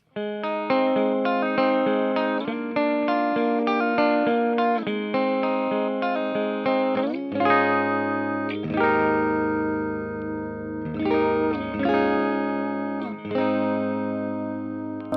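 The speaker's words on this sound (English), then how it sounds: "You can bring the middle pickup in with the bridge by activating it like that." 2020 Fender Parallel Universe Troublemaker Tele electric guitar on middle and bridge pickups, strummed in steady chords with a bright, slightly hollow tone, then shifting into sustained, ringing chords; loud and close, no voices.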